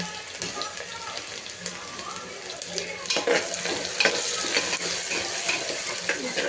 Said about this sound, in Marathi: कांदा तेलात थोडा फ्राय करून घेऊ